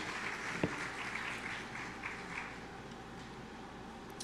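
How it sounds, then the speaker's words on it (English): Faint, distant applause from the audience at a Caribbean broadcasting association general assembly opening ceremony, greeting new members; a soft continuous patter of clapping with one sharper clap early on. "Another round of applause for the new members"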